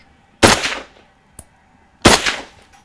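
A firearm fires two loud, close gunshots about one and a half seconds apart during a boar hunt, each with a sharp crack and a trailing echo. A small click falls in the quiet between them.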